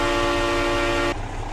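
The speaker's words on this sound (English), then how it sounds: "It's a train horn" A loud, sustained multi-tone train horn on a Peterbilt 389 truck in Euro Truck Simulator 2 blares for about a second, then cuts off abruptly, leaving a low engine rumble.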